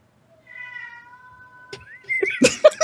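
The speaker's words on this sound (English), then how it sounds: "My cat is really punctuating this silence." A drawn-out cat meow rises out of quiet, then a few shorter, louder meows follow in quick succession nearby.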